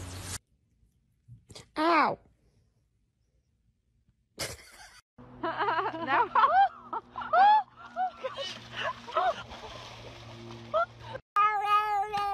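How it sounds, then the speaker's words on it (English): A stray female cat meows several times in short, high, wavering calls, close and clear, with breaks of near silence between them and a voice talking over the later calls. "Found this nice little cat. I think she's a stray."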